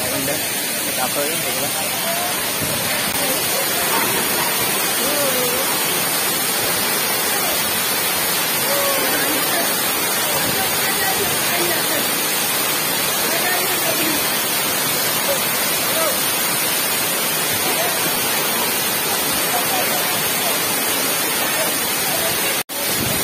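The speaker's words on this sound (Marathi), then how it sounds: "आम्ही वॉटरफॉलमध्ये आलेलो आहे" The Nhavankond waterfall at Talebazar, Devgad, roars in a constant, dense rush of falling water that fills the whole stretch, with faint voices buried underneath.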